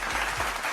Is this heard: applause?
yes